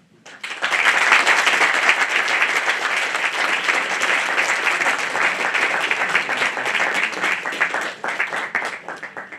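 An audience of film students applauds after a talk. Dense, sustained clapping rises quickly and holds strong, then thins and tapers near the end.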